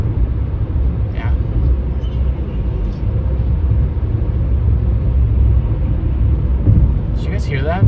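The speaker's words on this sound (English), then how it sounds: "It kind of sounded like a car was like starting to come apart." A car making a disturbing, loud low rumble as if it were starting to come apart, a steady heavy roar that fills the whole stretch with little change.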